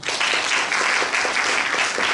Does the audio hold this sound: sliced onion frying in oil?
no